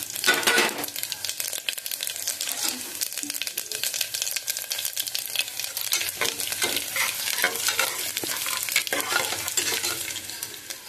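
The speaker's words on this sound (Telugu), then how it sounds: "తాలింపులు వేసుకొని వేపించేసుకోవాలి బాగా." Tempering spices sizzle and crackle steadily in hot oil for moong dal khichdi, with a spoon stirring and scraping the pan throughout, close and fairly loud.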